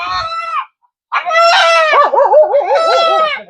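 Chickens cluck and squawk loudly and close by on a desert farm in Saudi Arabia, in a few bursts separated by a short pause.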